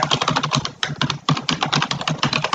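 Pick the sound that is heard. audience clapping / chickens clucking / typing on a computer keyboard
typing on a computer keyboard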